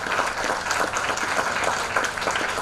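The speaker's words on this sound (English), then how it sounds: "I would request you to give a big round of applause for Dr. Sai Baba Gaur sir" An audience at a program introduction at a teen science center in Hyderabad claps steadily in a dense, continuous round of applause that lasts throughout without a break.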